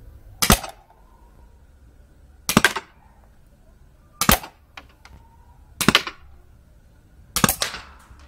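Five sharp, separate shots from a Ruger SuperHawk air revolver firing steel BBs at a cardboard target, about one every 1.5 seconds, each a crisp close pop with a quick tail and near silence between them.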